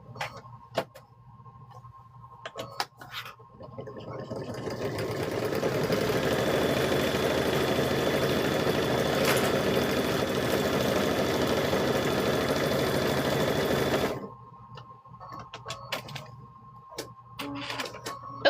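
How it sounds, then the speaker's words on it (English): A sewing machine stitches across the bottom of a quilted handbag in one steady, continuous run of mechanical whirring and ticking that lasts about nine seconds. Quiet room sounds come before and after it. "Now we need to sew across the bottom."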